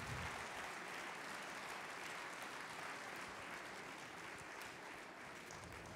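Sustained applause from an audience at the close of a cooking competition show, dense and steady throughout, fairly faint and distant, with no talk over it.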